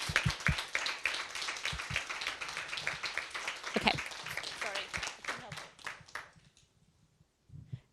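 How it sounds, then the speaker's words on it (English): An audience claps in a dense patter with a few voices mixed in, then the applause thins out and fades to near silence. "we should have a round of applause for Ellie, frankly."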